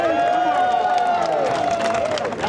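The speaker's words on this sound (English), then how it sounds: "And the crowd goes crazy." A street-show crowd at the Edinburgh Fringe cheers and claps loudly and continuously, a dense wash of applause and whoops close by with no clear talk on top.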